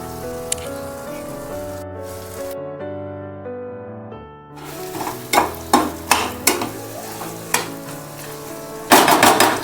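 Cooked mutton being stirred into roasted red masala in a pan for a village-style turmeric and salt dry mutton dish, with several sharp scraping stirs over background music.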